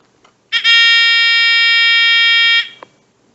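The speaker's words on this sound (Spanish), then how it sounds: "no sonaría el zumbador que tiene interna el multímetro" An analog multimeter's internal continuity buzzer sounds as its test leads touch, one loud, steady, shrill tone held for about two seconds, then cut off abruptly in a quiet room.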